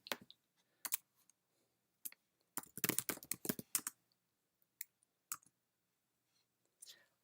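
Quiet, close clicking of a computer keyboard as a password is typed, with short irregular bursts of keystrokes and a dense flurry in the middle.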